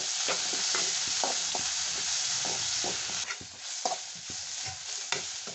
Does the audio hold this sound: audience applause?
no